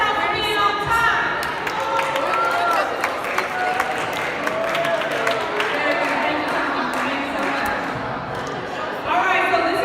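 A morning gathering of an audience cheering and making noise together, a dense, continuous crowd roar with scattered claps and whoops, loud and close throughout.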